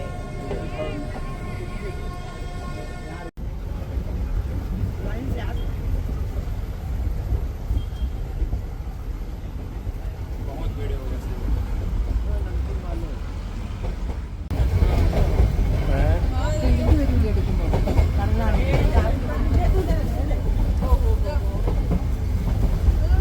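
The Nilgiri toy train, a UNESCO heritage mountain railway, rumbles steadily while carrying passengers from Coonoor to Ooty, growing louder about two-thirds through, with people talking over the noise of the carriage.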